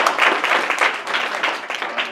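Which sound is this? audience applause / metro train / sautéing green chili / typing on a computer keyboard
audience applause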